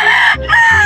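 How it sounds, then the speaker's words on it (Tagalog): A large rooster at a poultry market crows loudly and close, a single drawn-out call broken by a brief dip in the middle. "Pakita ko sa inyo yung napakalaking manok."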